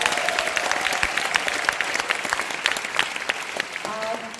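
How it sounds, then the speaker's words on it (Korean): Crowd applause at a Korean business seminar, steady dense clapping filling the room for several seconds, with a voice briefly heard near the end. "박수 크게 쳐주세요."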